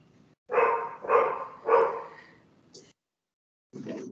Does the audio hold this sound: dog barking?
yes